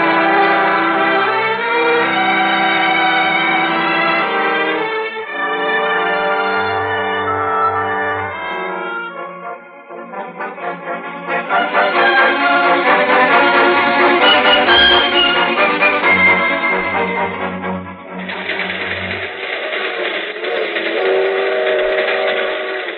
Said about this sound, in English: When does this here freight train get to Des Moines? This is a highball freight, kid.